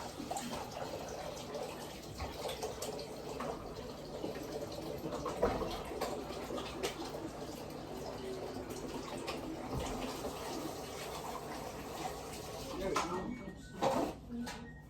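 Hot water runs from a kitchen tap in a home kitchen, a soft continuous splashing stream heard at low level beneath occasional talking and kitchen clatter.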